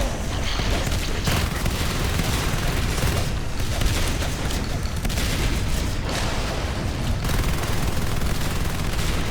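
Dense, loud gunfire in Natural Selection 2 combat, shotgun blasts mixed with rapid automatic fire and booms in a continuous barrage, with a few sharper bursts standing out.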